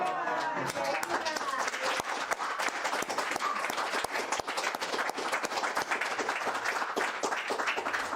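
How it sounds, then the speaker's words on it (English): A church congregation breaks into loud, dense applause with a few sharp individual claps standing out, sustained throughout, while voices shout over the clapping. "Another applause."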